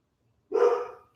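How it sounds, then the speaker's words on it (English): A single loud, close dog bark bursts out after a short silence and fades quickly, with nothing else heard around it. "my dog is freaking out"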